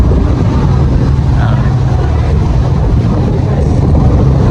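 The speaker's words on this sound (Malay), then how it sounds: "Angin deras angin kuat, angin kencang." Strong wind buffets the microphone on a busy city street in Bukit Bintang, Malaysia, a loud continuous low rumble mixed with distant traffic noise throughout.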